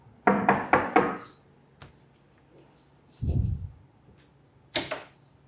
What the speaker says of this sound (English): Should I knock?